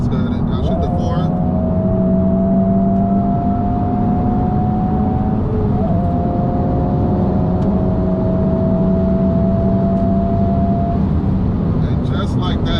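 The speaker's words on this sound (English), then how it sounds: "I made downshift to 4th to accelerate past this truck" A Honda Civic Type R FL5 accelerates after a downshift to fourth while passing a truck, its engine note rising steadily under constant cabin road noise, with someone talking over it.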